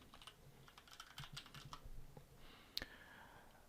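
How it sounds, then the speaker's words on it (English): Quiet typing on a computer keyboard, a run of soft, closely spaced key clicks followed by a pause and one sharper click, faint and alone. "and I'm going to type in TradingView."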